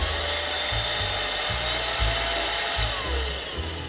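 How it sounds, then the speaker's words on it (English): An electric air duster blower runs at a steady, loud, high-pitched whine with a rushing airflow hiss throughout, easing off slightly at the end. "we can turn on the blower. So you get an idea of what that sounds like"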